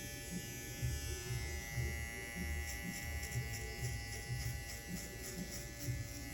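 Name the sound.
hair clipper cutting a skin fade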